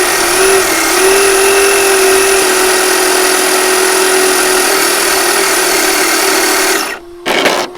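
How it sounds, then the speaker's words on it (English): Traxxas Drag Slash RC car holding a burnout, its electric motor emitting a loud, sustained high-pitched whine for about seven seconds before cutting off, followed by a short burst. "Let's do a burnout."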